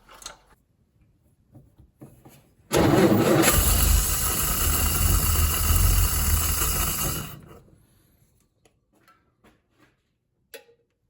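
A vintage Humber Super Snipe Mk 1 engine cranks and catches, running loudly and roughly for several seconds before cutting out, with faint clicks and knocks on either side.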